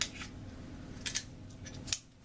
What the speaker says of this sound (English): you're going to take some scissors and you are going to cut off